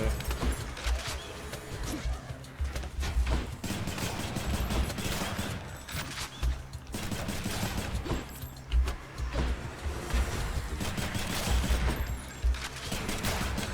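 Rapid weapon fire and combat effects in the action game Hades, repeated punchy shots in irregular bursts among busy, dense game sounds.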